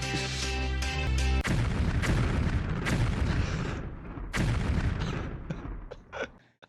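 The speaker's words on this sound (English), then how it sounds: "I like the 4 explosions" Heavy booming blasts roll out one after another, loud and rumbling with sharp cracks, before fading into scattered smaller pops near the end.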